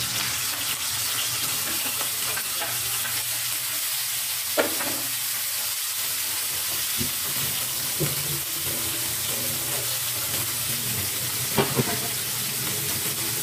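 Pork meat frying in a hot pan for a bagoong shrimp paste dish, a steady soft sizzle with occasional scrapes and clinks of stirring, no talking.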